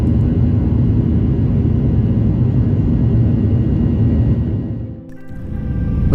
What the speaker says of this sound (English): For the return trip, I flew back on Fly Dubai, the Dubai-based low-cost carrier.